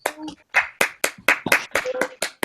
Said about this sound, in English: Round of applause for Peter and Harald.